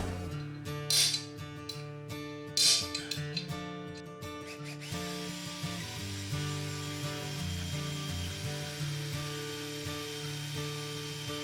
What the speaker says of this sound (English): I'll just drill that small hole in there